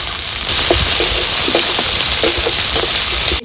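Chopped garlic and green chilli sizzle steadily in hot oil for a taro leaf dish, a close, continuous crackling fry with small bursts of spitting throughout and no talking.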